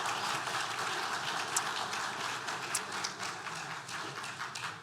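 A church congregation applauds in a steady, fairly quiet patter of many clapping hands, with a few sharper individual claps standing out, heard from some distance without talk over it.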